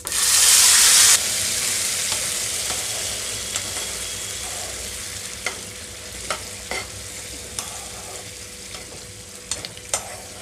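Bottle gourd curry pours into hot tempering of curry leaves with a loud burst of sizzle. The burst settles into a quieter steady frying hiss with sharp clicks and stirring knocks from the pan.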